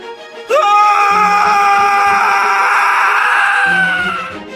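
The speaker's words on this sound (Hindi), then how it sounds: "कमरे से अर्जुन की भयानक चीख की आवाज आती है।" A man's terrified scream bursts out from inside a room, a long, loud, sustained wailing cry that holds for about four seconds before trailing off, with no other voices.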